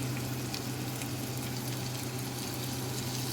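Ginger and garlic frying in a pan for dinuguan, the pork blood stew, giving a steady, even sizzle with a low hum underneath and no talking.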